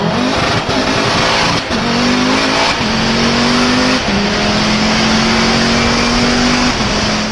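A race car with a sequential gearbox accelerates hard, its engine screaming upward in pitch through several quick gear changes with brief dips between shifts, loud and close throughout.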